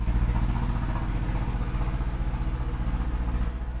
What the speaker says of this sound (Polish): traktor jedzie ulicą